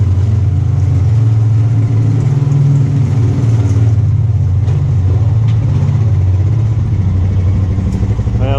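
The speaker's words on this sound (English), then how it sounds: "See if we can spin our tires." An off-road vehicle stuck on a trail revs its engine while trying to spin its tires, a loud, close, steady engine drone that rises and falls slightly throughout.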